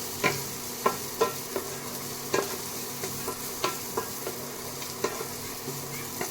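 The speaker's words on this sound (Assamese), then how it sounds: "ইফালে এয়া গাজৰ পিঁয়াজ বিনছ ভাজি আছোঁ।" Carrots, onions and beans sizzle steadily in a hot pan while a utensil scrapes and stirs in a regular rhythm of sharp clacks.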